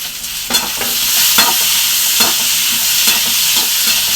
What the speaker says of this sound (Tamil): இன்னும் கொஞ்சம் லைட்டாக நல்லா வதங்கணும் தக்காளி